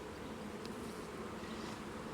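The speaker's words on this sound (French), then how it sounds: "On écarte juste un petit peu les abeilles." Honey bees swarm over a hive frame during queen rearing, giving a steady, close, dense buzzing drone that holds without pause.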